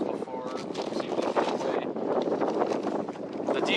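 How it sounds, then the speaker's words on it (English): Gusty outdoor wind buffets a microphone with a constant low rumble and roar for several seconds, partly masking a voice talking underneath. "it's too damn windy to show you everything"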